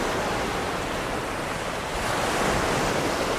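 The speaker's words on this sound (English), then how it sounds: "Behind me, I can hear the lapping of waves slowly subside." Steady, unbroken wash of ocean waves from the video game Project Neural Cloud, a close, even hiss of surf that swells slightly toward the end, with no voices.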